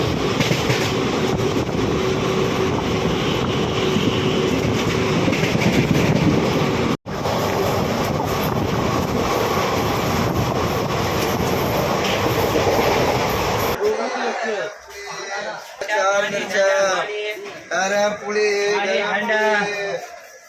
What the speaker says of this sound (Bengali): এই মুহূর্তে আমাদের ট্রেন ছাড়লো সঠিক টাইমে দুর্গাপুর স্টেশন থেকে